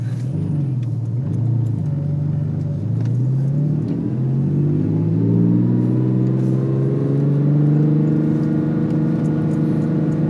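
A Porsche 997 with a beta test aftermarket exhaust drives in sport mode, its engine note rising smoothly as it accelerates, a loud steady rumble heard from inside the car without talking.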